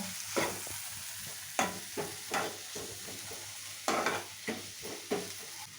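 Chillies and tomatoes fry in a pan with a soft continuous sizzle, punctuated by several distinct spatula scrapes and stirs at irregular intervals, close-up and fairly quiet, with no one speaking.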